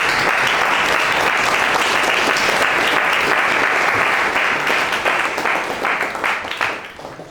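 An audience at a gathering applauds to welcome a guest, dense steady clapping from many hands that holds for several seconds and then thins out and fades.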